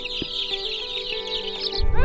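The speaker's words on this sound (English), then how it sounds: "And just like that, we had our first Cornish cross meat chickens of the season." Several Cornish cross meat chickens cluck and chatter continuously at close range, with a higher bird call briefly rising near the end.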